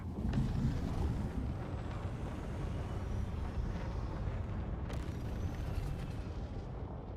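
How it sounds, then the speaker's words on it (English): An angry-sounding spaceship engine in the video game Elite Dangerous gives off a steady, dense low roar with a rough rumbling texture, loud and continuous, with a brief whooshing swell near the end and no talking. "Listen to that engine. That's an angry engine, isn't it?"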